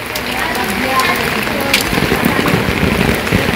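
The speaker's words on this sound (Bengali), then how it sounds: "তো ভালো হয়েছে বৃষ্টি পড়তেছে আর শক্ত হইতেছে বেশি" Rain falls steadily during a rainy spell, a dense crackling patter with a voice talking over it throughout.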